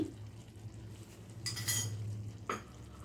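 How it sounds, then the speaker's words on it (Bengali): A spoon stirs two spoonfuls of yogurt into boiled cauliflower florets in a pan, heard as a faint low hum with two brief scraping, clattering bursts of the utensil against the pan, close and without talk. "দইটা দিয়ে একটু নাড়তে হবে"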